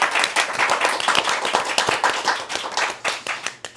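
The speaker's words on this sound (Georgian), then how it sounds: "ტაში მომწონს." A small group claps together in a quick, steady burst of close, bright applause lasting a few seconds before tapering off, at a spontaneous dating show.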